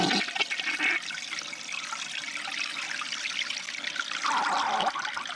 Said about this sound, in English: Let's go ahead and flush it and see what happens.